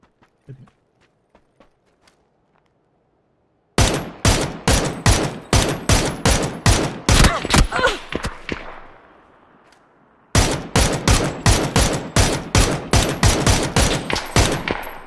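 Rapid bursts of video game gunfire, sharp loud shots in quick rhythmic succession across two long volleys, separated by a brief decaying pause after faint quiet sounds at the start.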